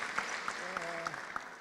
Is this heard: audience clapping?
yes